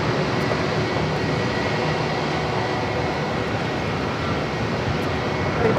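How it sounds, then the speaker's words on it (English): An airliner bound for Montego Bay taxis at JFK airport, a steady, loud broadband engine roar with low rumble holding evenly throughout, with no talking. "This is flight heading to Montego Bay. Now starts its taxi."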